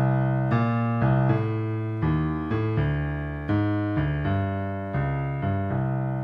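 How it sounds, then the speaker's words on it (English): Piano bass line with added swing fill notes, a steady sequence of struck low notes and chords, each decaying before the next, played close and alone without talk. "So now our bass line sounds like this."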